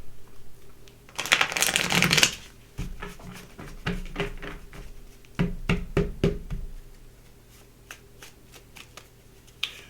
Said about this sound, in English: Let's get a couple more cards out here.